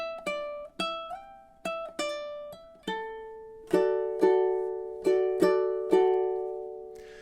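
Fingerstyle ukulele phrase from a summery tutorial piece, a sequence of clean plucked notes and chords in a steady rhythm, ringing out close and clear with no voice.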